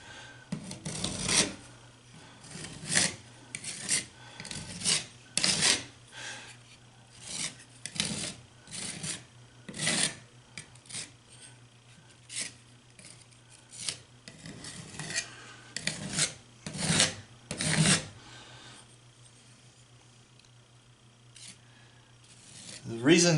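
A spatula scrapes excess caulk off drywall in a series of short, rasping strokes, close and fairly quiet, coming in irregular bursts with brief pauses between them.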